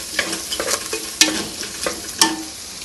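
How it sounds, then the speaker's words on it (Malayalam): Curry ingredients being stirred and mixed in a frying pan, with a steady sizzle under repeated scraping strokes and a couple of sharper knocks of the spoon against the pan; no talking. "നല്ലോണം മിക്സ് ചെയ്യാം."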